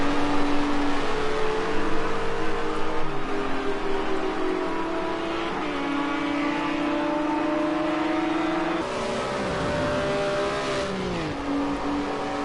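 GT race cars at a British GT round at Donington-style circuit accelerating down the straight, a steady loud engine drone with shifting pitch as gears change, continuous throughout.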